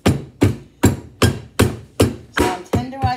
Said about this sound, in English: So I'm tenderizing these veal cutlets.